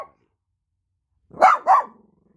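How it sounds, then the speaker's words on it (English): A dog gives two quick, close barks with a growly edge, aimed at an Ultimate Warrior Wrestling Buddy toy, after a moment of near silence; no one speaks. "This is my dog Hunter, and he doesn't like Ultimate Warrior"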